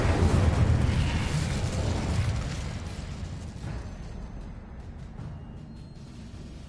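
In Hogwarts Legacy, the Incendio fire spell bursts out with a loud roaring whoosh that slowly fades into a crackling, settling rumble, followed by a sharp snap at the very end.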